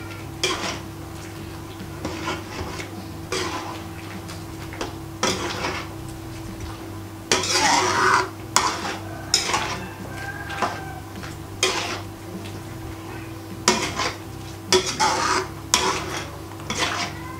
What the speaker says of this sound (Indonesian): Sambil kita aduk dulu biar tercampur merata.